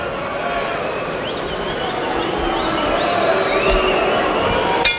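A restless boxing arena crowd murmurs and stirs in a steady, dense babble during a slow middle round of the Orlando Salido vs Juan Manuel Marquez fight, with scattered faint shouts and a brief sharp sound near the end.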